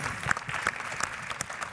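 Faint, scattered applause from an event audience congratulating a product presenter at the SEMA Launch Pad, a thin patter of hand claps that stays light and distant for a moment.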